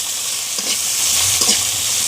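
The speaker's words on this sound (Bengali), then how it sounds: "এখন শুটকি মাছগুলো ভালো করে ব্রাউন কালার করে ভেজে নেব।" Dried fish sizzles and fries steadily in a pan for a potato curry, a continuous close hiss with a couple of brief stirring scrapes, and no talking.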